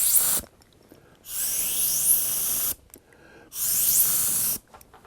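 Paint sprayed in two long bursts to build a two-tone speckle finish, each a steady bright hiss lasting about one to one and a half seconds, separated by quiet pauses and closely heard.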